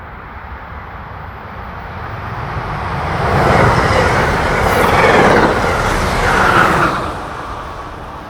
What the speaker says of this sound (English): At Salunga, train 663 passes one of the many old brick buildings along the tracks.